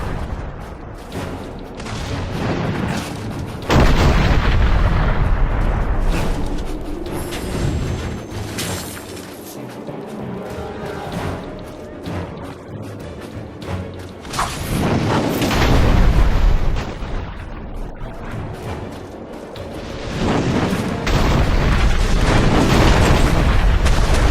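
Heavy gunfire from Azumite gunners in the fantasy action game Dungeon Siege III, with booming blasts and dense volleys that swell and fade over a loud battle din.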